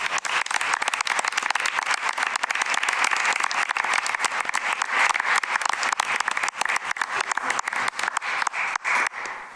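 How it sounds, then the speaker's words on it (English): Audience applause fills a school board meeting room, dense and steady clapping from many people for nearly ten seconds before tapering off at the end. "Can we all give Stephanie a round of applause?"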